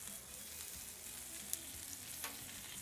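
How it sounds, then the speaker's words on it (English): Steak sears in butter on a Blackstone griddle, producing a faint, even sizzling hiss that holds steady, with a couple of tiny pops and ticks. "So I will lay a little bit more butter down just so we can sear this other side really good."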